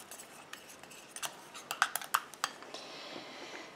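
Homemade eczema cream mixed in a bowl with royal jelly, producing light, irregular clinks and taps of a utensil against the bowl, clustered in the middle, quiet and close with no talk.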